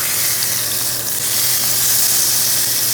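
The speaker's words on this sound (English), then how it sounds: "before I flip it completely, I try to cook a little bit of the side" The side edge of a New York strip steak sears in a hot pan, giving a loud, dense, unbroken sizzle, close and steady.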